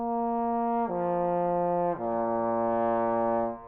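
A trombone held in first position plays three sustained notes changed only by lip slurs, each step dropping smoothly to the next, played close and steady with a rich, bright tone.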